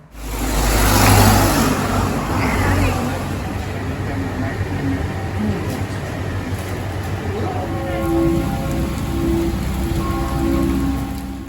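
Steady rain falls on a Budapest street near Castle Hill, a continuous wash of drops on pavement with passing car and traffic rumble underneath, heard close and fairly loud throughout.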